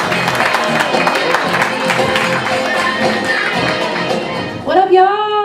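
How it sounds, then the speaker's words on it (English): An audience at the Blue Room claps and cheers steadily to welcome performer Sarah Pearl, the applause holding for several seconds before a voice comes in at the end. "Put your hands together for the lovely Sarah Pearl"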